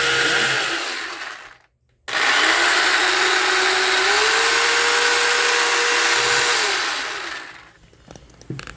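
A repaired Black & Decker mini food processor whirring loudly up close, a short burst then a brief stop, followed by a sustained motor whine whose pitch rises slightly before it winds down.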